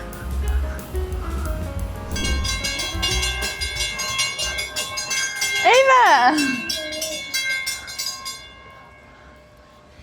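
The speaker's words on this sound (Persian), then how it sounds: "این فکر کنم قطاره تا داونتاون میره" A train rolls past with rhythmic clattering and a long ringing, wavering horn blast, loud and nearby, with a brief spoken word at the start.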